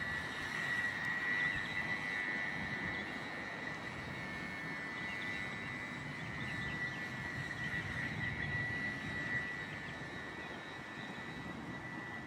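A 3D printed RC boat motor runs steadily as the boat cruises over water and cuts across its wake, a constant high whine over a broad rushing wash with no talk.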